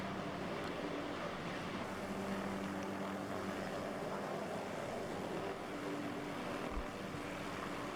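A helicopter in the DayZ video game sets down for a landing, its steady rotor and engine drone filling the scene at a constant level with no talking.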